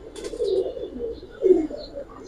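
A Giribaz pigeon coos close by in two low, throaty rolling calls, one early and one later, with faint chirps from other birds in the background and no talking.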